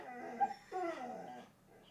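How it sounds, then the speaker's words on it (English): Dogs whimper and yip back and forth indoors, a couple of short, high, whiny bursts close by with brief pauses between them. "Sorry, the dogs are now having a conversation."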